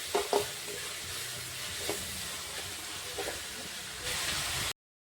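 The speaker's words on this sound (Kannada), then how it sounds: "ಇದು ಇವಾಗ ಚಂದ ಮೆತ್ತಗಾಲಕ್ಕೆ ಬಿಡೋಣ ಒಂದು ಎರಡು ನಿಮಿಷ ಇಷ್ಟೇ ಫ್ರೈ ಮಾಡ್ಕೊಂಡ್ರಿ" A bread snack mixture frying in a pan gives a steady close sizzle, broken by a few scrapes of a stirring spoon, then a louder hissing burst before the sound cuts off abruptly. No one speaks.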